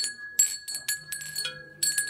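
A stained glass eagle ornament chimes with a bright, ringing tone, struck several times in quick succession and sustaining between strikes, close and clear.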